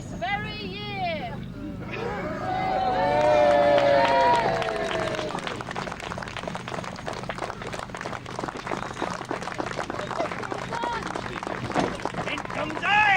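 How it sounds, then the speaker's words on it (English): An audience at an amateur church-fundraising performance of a play bursts into loud, sustained cheering and clapping, a dense crowd roar with shouts that swells and keeps going after a few brief voices at the start. "join me in a rousing cheer to save the church this very year"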